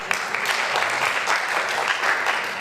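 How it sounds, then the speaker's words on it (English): An audience applauding after a question at a talk, dense steady clapping throughout, fairly loud and even. "I clap for you too."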